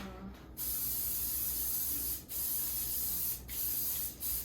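A can of cooking spray sprays onto a skillet in three long hissing bursts, separated by brief pauses, close and steady.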